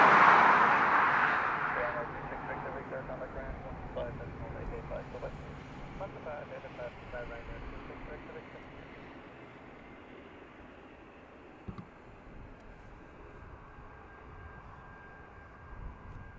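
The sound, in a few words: Ryanair aircraft landing at Dublin Airport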